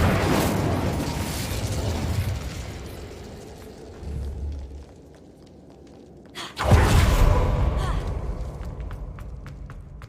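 Incendio fire spell cast in Hogwarts Legacy, a whooshing fiery burst followed by a second loud blast after a brief lull, with rumbling low-end boom effects.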